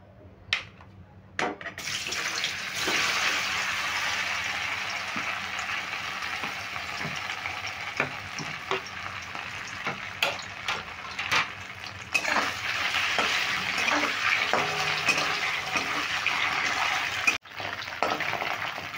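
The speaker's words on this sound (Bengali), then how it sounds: "এবার আমি সব পনির কটাই একসঙ্গে দিয়ে দিচ্ছি" Paneer pieces hit hot oil in a kadai and sizzle steadily, with occasional clinks and scrapes of a utensil against the pan.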